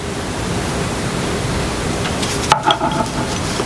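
Blue sage being lit, a steady hiss of noise followed by a brief crackle and flicker of flame near the end.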